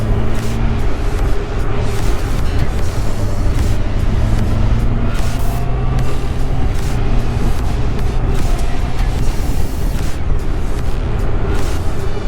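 A Suzuki GSX 600F motorcycle is ridden hard through corners, its loud engine note rising and falling as revs change, over buffeting wind noise close to the rider.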